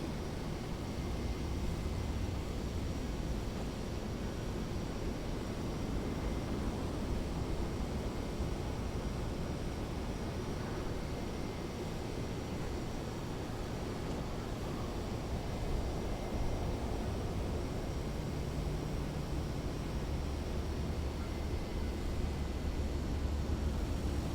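Airplane taxiing slowly along a runway in Microsoft Flight Simulator, a steady, low broadband engine hum and rush that holds constant and fairly quiet, with no voices.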